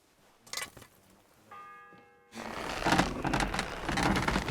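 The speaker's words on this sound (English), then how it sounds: "First bell. Another 11 to go." A single church bell strike rings out in Kingdom Come: Deliverance II, its clear ringing tone decaying for under a second before louder rustling ambience and footsteps take over.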